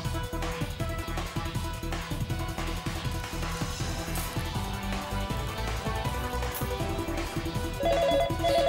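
A telephone rings loudly and steadily for an incoming caller on a radio phone-in, the repeated tonal ringing set over a busy musical backing.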